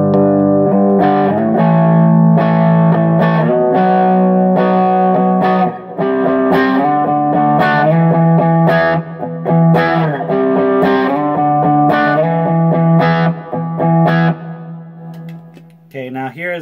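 Electric guitar through an Egnater Tweaker amp with a light overdrive acting as a volume boost, loud strummed chords ringing out in sustained phrases with brief gaps, a final chord decaying at the end.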